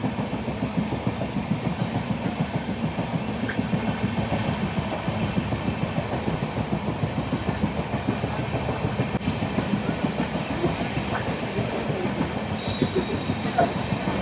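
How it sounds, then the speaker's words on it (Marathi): A moving passenger train rolls steadily with continuous wheel and carriage rumble and occasional squeals, heard close from on board without speech. "ट्रेन चालू झालेली आहे."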